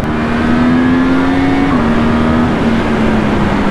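Loud, close engine of a Yamaha R1 superbike pulling in third gear, a steady strained drone that dips briefly as it shifts, with wind noise throughout.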